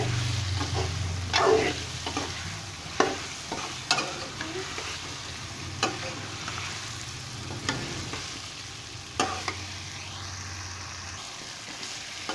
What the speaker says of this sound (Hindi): अभी इसमें आलू शामिल कर लेंगे। आलू थोड़ी देर भून लेंगे थोड़े से।